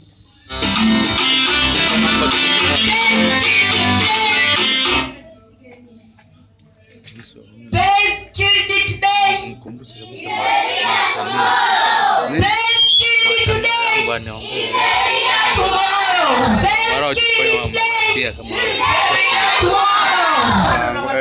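A church congregation lets out long, high-pitched ululating trills and cheers in loud bursts, broken by a short lull and shouting voices.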